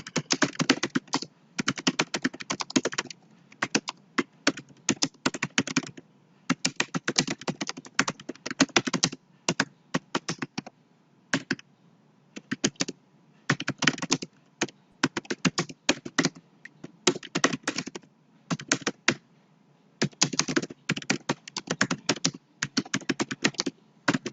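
Steady typing on a computer keyboard while writing a document in MS Word, with bursts of close, crisp key clicks separated by short pauses and no speech.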